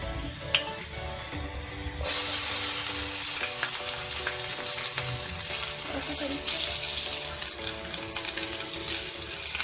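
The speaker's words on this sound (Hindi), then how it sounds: "इसके लिए मैंने इस पैन में डाला है ऑयल और इसमें जाएगी प्याज" Onions drop into hot oil in a pan at about two seconds, setting off a loud, steady sizzle that runs to the end, with faint kitchen clatter and background murmur before it starts.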